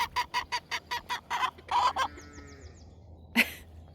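Farm chickens cluck in a quick rhythmic series of close, loud calls, followed by a single sharp squawk after a short pause, over a quiet outdoor background.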